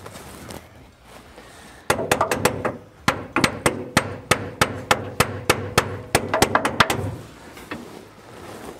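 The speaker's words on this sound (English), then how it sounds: "We're just gonna try to hammer on the starter just a little bit." Hammer blows on the starter of a VW bus, a long run of sharp metallic knocks in a fairly regular rhythm, some landing in quick doubles, close and loud with no talking.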